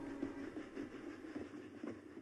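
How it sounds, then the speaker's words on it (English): A train rushing past a house, heard as a quiet, continuous rolling rumble with a soft rhythmic pulsing of wheels, faint and steady from start to finish. "The house quivered as the train passed, its lights suddenly extinguished one by one as a tunnel seemed to swallow the train in one abrupt gulp."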